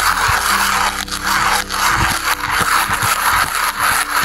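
Coffee beans ground by hand in a manual burr grinder for espresso with a Cafelat Robot, a loud, close, continuous gritty crunching and scraping that rises and dips with each turn of the handle, no talking.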